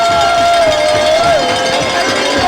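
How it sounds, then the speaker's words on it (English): A crowd at a 1993 high school football playoff game roars and cheers steadily, with a faint whistle-like tone and a cowbell-like clank in the loud, continuous din. "you can hear the crowd really getting into this"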